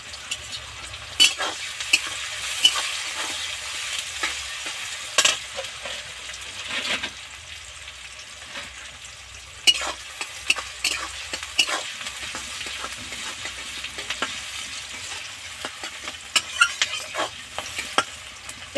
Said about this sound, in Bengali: এবার এর মধ্যে অল্প কিছুটা লবণ দেব, তাড়াতাড়ি যাতে সফট সফট হয়ে পেঁয়াজগুলো ভাজা ভাজা হয়ে যায়।